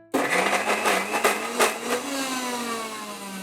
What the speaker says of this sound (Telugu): ఇవన్నీ ఒకసారి బాగా కలుపుకొని మిక్సీ పట్టేసుకుందాం